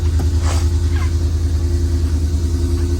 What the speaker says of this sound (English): They call it the Godzilla motor because it's a powerful motor, has a great sound to it.